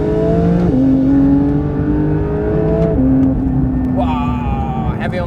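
Engine of a Porsche GT3 with a manual gearbox in sport mode drones loudly and steadily, its pitch stepping with gear changes before rising in a sharp rev. Someone talks over the engine.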